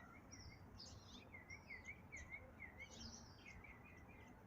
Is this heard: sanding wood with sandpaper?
no